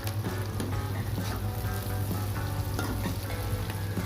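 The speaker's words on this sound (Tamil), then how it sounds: "வெங்காயம் நல்லா வதங்கி வாசனை வர அளவுக்கு வதக்கிட்டே இருங்க" Onions sautéing in a pan for a tamarind and elephant-yam curry, a steady dense sizzle running throughout with light stirring scrapes, loud and close with no voices.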